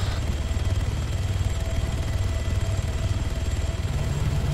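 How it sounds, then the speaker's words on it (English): A helicopter in the video game Arma 3 flies low, giving a steady, loud low-frequency rotor thump with a continuous engine drone and no voices. "Got a chopper coming your way."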